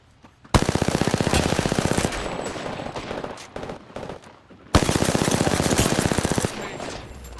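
Video-game gunfire in an arena shooter: two long, loud bursts of rapid automatic fire, broken by scattered single shots and quieter battle noise, with brief talk mixed in.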